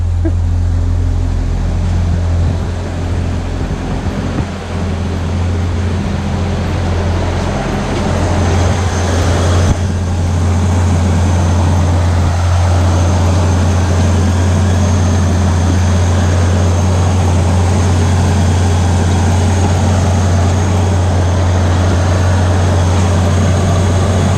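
A 1986 Ford Aerostar van gives a steady, loud, low engine rumble and drone up close, continuous throughout with slight shifts in tone.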